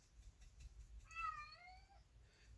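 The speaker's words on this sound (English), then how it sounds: "we got the cats at the door wanting to come in." A cat meows at a door, wanting to come in, giving one clear, drawn-out, wavering meow at moderate distance over quiet room noise.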